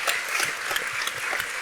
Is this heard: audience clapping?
yes